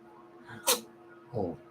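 A single person's sneeze, a sharp bright burst followed a moment later by a softer breathy voiced sound, close and fairly quiet indoors.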